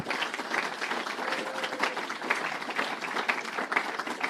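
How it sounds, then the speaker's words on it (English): At a music industry summit, an audience gives a panel a continuous, even round of applause, many hands clapping together at moderate volume without a break. "I'd like you to please give a round of applause"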